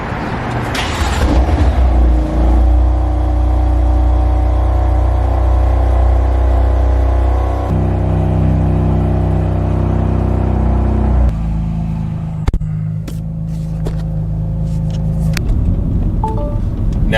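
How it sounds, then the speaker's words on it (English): A BMW F80 M3 engine cold starts with a loud burst of revving, then settles into a steady high idle, and the idle drops lower near the end, alone with no talking. "Here's a cold start."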